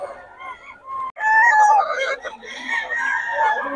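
Gamecocks and chickens at a rooster seller's yard in the Philippines crow loudly and close, one long crow rising over softer clucking and clucks from other birds.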